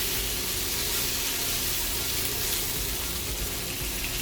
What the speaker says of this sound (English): Once the oil is hot, add in chopped pimento peppers and sweet peppers. We're just going to blister this slightly.